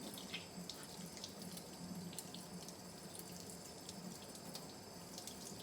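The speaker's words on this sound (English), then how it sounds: "I'm going to rinse it with the water." Tap water runs steadily into a sink while an oil paint brush is rinsed, a close, continuous splashing wash with faint drips and no talking.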